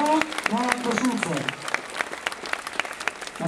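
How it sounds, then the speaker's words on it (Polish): Warm applause from the audience at Polonia Warsaw's 2010/2011 squad presentation, a steady clatter of clapping welcoming a football player, with a voice speaking over the start. "A teraz proszę o równie gorące napięki, równie gorące brawa"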